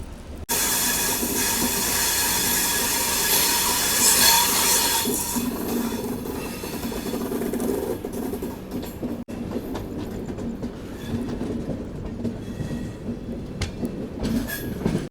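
Rajdhani Express train rolling into Dharmavaram junction, steady loud rumbling wheel noise and hiss with faint rhythmic clatter, fading somewhat midway as it slows on the approach.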